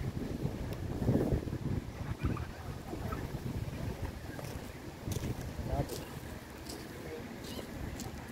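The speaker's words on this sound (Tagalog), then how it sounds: "Lakas ng hangin." Strong wind buffets the microphone on an outdoor walk through a residence park, a steady low rumble with gusting bursts, while people talk underneath.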